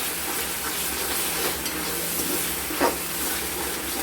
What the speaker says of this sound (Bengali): এইবারে আমরা ঢাকনা খুলে দেখবো মশলাটা প্রায় কষা হয়ে গেছে।